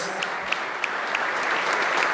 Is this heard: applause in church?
yes